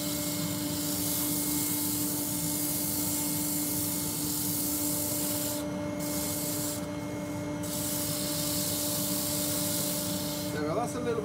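150-grit sandpaper rubbing a turned wooden Christmas-tree bird box spinning on a lathe, a steady close hissing scrape over the motor's hum, with brief pauses near the end.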